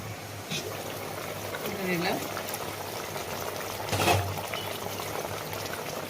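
Hilsa and eggplant curry with slit green chillies bubbles in a pot, a steady soft simmering burble running throughout with a brief stirring clatter near the middle and a voice speaking faintly over it.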